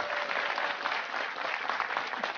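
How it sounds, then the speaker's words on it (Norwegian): Studio audience at a chess-themed television quiz show breaking into steady, lively applause, dense clapping throughout at close range. "En applaus!"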